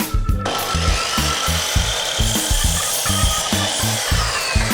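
A cordless drill drives screws into wood while building a flower box, with a loud, steady motor whine and a regular rhythmic churning pulse throughout.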